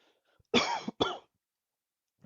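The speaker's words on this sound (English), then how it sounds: "Yeah, I'm still coughing." Two sharp coughs close together from a nearby person, with near silence around them.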